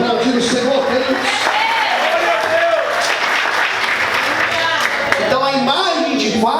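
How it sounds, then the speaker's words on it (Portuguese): A church congregation applauds during an evening worship service, a dense, steady wash of clapping that lasts throughout, with voices and musical tones mixed into the crowd noise. "Você pode aplaudir o Senhor, queridos?"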